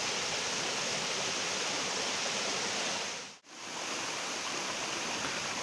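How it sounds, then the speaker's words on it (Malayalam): Choorakkode Waterfall, a small cascade, gives a steady, dense rush of falling water, close and loud. The sound cuts out for a moment partway through, then resumes unchanged. "ഇതാണ് ഇതിൻ്റെ തൊട്ട് മുകളിലുള്ള ചെറിയ ഒരു വെള്ളച്ചാട്ടം"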